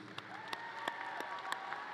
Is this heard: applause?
yes